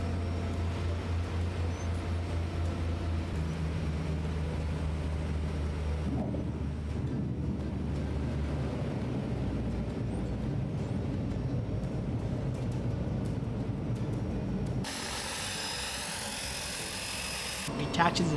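Low rumbling drone of a DHC-6 Twin Otter turboprop landing and taxiing in Fiji, heard from inside the cabin; the engine hum shifts and fades to a lower, quieter rumble, with a brighter hiss near the end.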